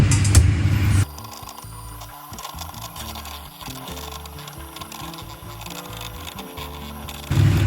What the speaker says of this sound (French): Je vais prendre mon batteur électrique et donc là je vais dans un premier temps monter les blancs en neige